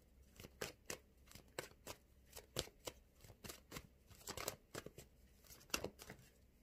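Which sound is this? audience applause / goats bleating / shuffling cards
shuffling cards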